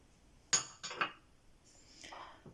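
Sesame seeds and almonds stirred together in a bowl for crunchy fekkas biscuits, a few quiet clinks and scrapes of a utensil against the bowl, close and sparse.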